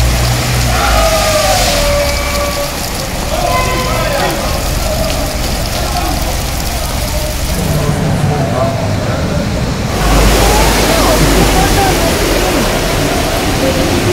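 Flood water rushing through a Berlin street, a dense steady roar of flowing water with passing traffic noise, loud and close throughout, growing stronger near the end.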